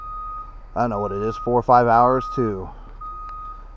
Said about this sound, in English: You hear the bus is backing up behind me.